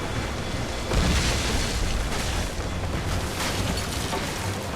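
Naval cannon fire in the Assassin's Creed Rogue video game rumbles as a dense, continuous wash of booming explosions. One heavier blast lands about a second in, then the roar carries on at a moderate level.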